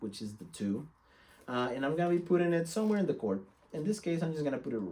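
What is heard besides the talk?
No everyday noises stand out.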